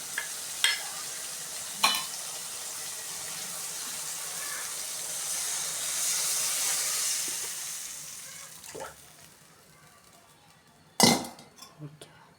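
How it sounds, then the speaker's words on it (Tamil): A tamarind mixture with turmeric, chili powder and salt, made for a sankara fish kulambu, is poured into a hot kadai and hisses into a broad sizzle that rises and fades, with a few sharp utensil clanks around it. "இப்போ அதை தான் வந்து நம்ம கடாயில் ஊற்ற போகிறோம்"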